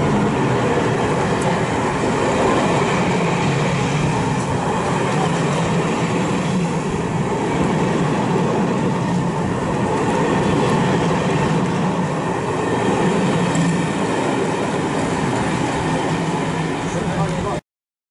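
A train rolls through Patchway station on the South Wales Main Line in the evening, a steady broad rumble with rail noise holding at constant loudness for the whole stretch, near and continuous with no pauses.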